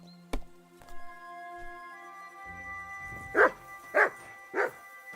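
A dog in Kingdom Come: Deliverance II gives three loud, evenly spaced barks near the end, following quieter thumps and ambient tones.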